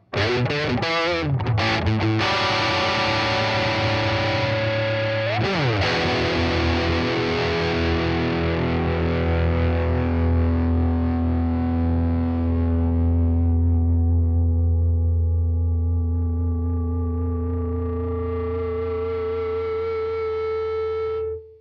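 Heavily distorted electric guitar through the B channel of an Albion TCT-35C amplifier: a couple of quick strums, then a big sustained chord ringing out and slowly fading.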